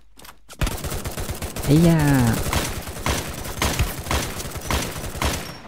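Rapid gunfire in the Free Fire battle royale game, a steady stream of close, punchy shots after a short quiet start, with a player's exclamation cutting across early on.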